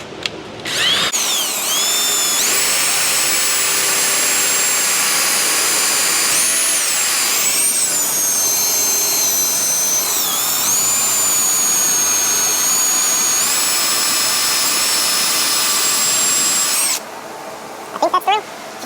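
A power drill bores steadily through material with a bit, a sustained high whine running loud and close for most of the stretch before stopping, set amid preparations before Hurricane Milton; a voice speaks briefly near the start.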